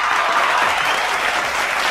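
A small group claps for a guest on a sports talk show. The clapping is steady, close and continuous for about two seconds, with no break in the sound.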